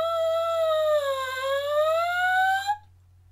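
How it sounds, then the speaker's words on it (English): A brass player buzzes their lips into a cornet mouthpiece at a high pitch, giving a sustained, reedy buzz that sags slightly in pitch midway and rises again before cutting off sharply, heard alone over a faint low hum. "to play the cornet, you need a higher sound on the buzz"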